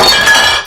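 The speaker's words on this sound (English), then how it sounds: "I just smashed that plate" A plate breaks in a loud, close, bright crash of ceramic, with ringing shards clinking briefly before fading out.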